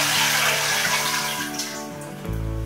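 One litre of water is poured into a vessel for making banana wine, a continuous close splashing gush that shifts in tone near the end as the container fills, with no talking.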